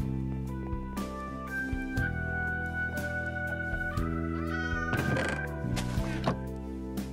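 A cat meows a few times within a video game, short mewing calls heard over steady in-game music with sustained tones and occasional soft clicks.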